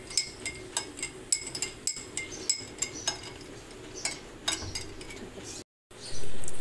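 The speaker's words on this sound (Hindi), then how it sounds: "ये 1 चम्मच चीनी गई। अब इसको mix mix mix mix mix करके" A spoon stirs sugar into raw mango cubes for keri murabba, making about a dozen close, bright metallic clinks in a quick, fairly regular rhythm, followed by a short break and a duller rustle at the end.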